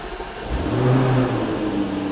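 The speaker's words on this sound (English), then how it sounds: "So I'll just fire it up now." A 2021 Jaguar F-Type First Edition V8 engine starts up, a brief starter whir followed by a loud, close, steady low idle rumble with no talk.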